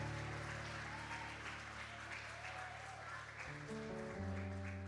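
A church congregation applauds during a communion service, soft clapping spread through the hall, heard faintly and at a distance, while a steady organ or keyboard chord hums underneath and shifts pitch near the end.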